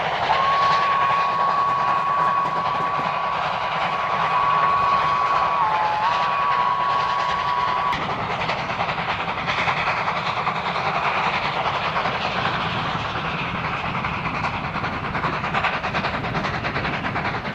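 A steam train in South Africa rumbles steadily along the rails with rhythmic clatter, while a long whistle sounds for the first several seconds, then fades into continuous running noise.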